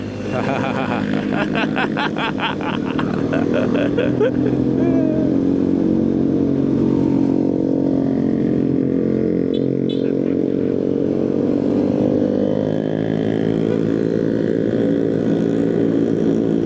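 Electric motorbike riding on a road, capped at about 40 km per hour, with a steady motor hum and rushing wind noise throughout while a person talks over it early on.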